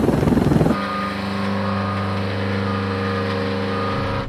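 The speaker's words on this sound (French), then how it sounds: "ici vous êtes au simulateur d'hélicoptère Caïman" A Caïman military helicopter flight simulator gives off a steady whining turbine drone with layered rotor hum that holds evenly after a louder rumbling start, close and continuous without speech.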